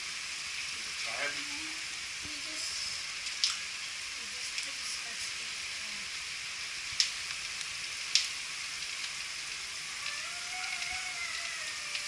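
Onions fry in a pan for Filipino kare kare, a faint steady sizzle running throughout with scattered light clicks and taps of utensils; no one speaks.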